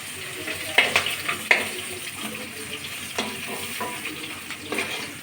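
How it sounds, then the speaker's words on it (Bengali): Rohu fish heads frying in a pan give a steady sizzle, broken by several sharp metal clinks and scrapes in the first half as the pieces are lifted out. "মাছের মাথা ভাজা কমপ্লিট হয়ে গেছে আমি এখন তুলে নিচ্ছি"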